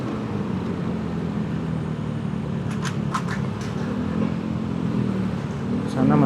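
Motorcycle easing through a traffic jam on Jakarta city streets, a steady low engine drone and road noise throughout with brief clicks and rattles, and a rider talking over it.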